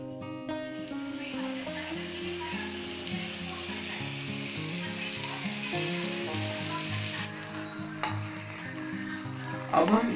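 Carrot halwa simmering with milk in a frying pan sizzles steadily while a spoon stirs it, adding soft, repeated scraping strokes close by, with a brief clatter near the end.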